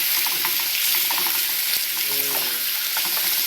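Steak strips browning with vegetables in a hot pan for Ecuadorian-style pepper steak, giving a loud, steady, close sizzle and crackle from start to finish, with a few faint clinks of stirring partway through.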